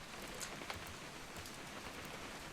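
Soft, steady rainfall in the video game What Remains of Edith Finch, faint and continuous with scattered drop ticks, with no voices.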